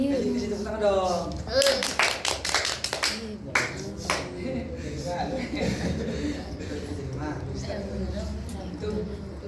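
A class claps hands during an Arabic grammar lesson, a short burst of scattered claps in the first few seconds, with chatter and chuckles continuing around it.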